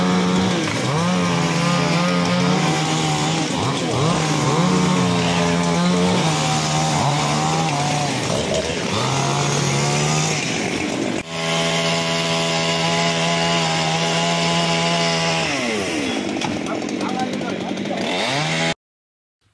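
Chainsaw cutting up a large fallen tree blocking a road, loud and close, its engine revving and dropping in pitch as it bites through wood, with a brief restart midway and a sudden stop at the end.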